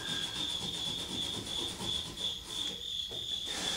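Latex paint being scrubbed off an old Hoosier cabinet: a close, continuous back-and-forth rubbing hiss with a faint steady high whine running underneath.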